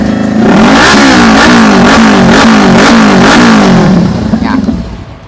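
A used motorcycle fitted with an aftermarket FC exhaust revs hard and close, its engine note rising and falling in rapid repeated throttle blips before dropping away near the end, very loud and dominant.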